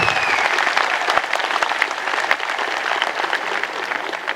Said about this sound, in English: My first round of applause.